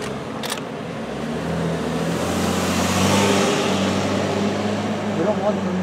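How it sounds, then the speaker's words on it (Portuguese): A car rolls past very close on a street, its engine and tire noise swelling to a peak midway and then easing, with a person speaking over it. "Esse carro ia me atropelar."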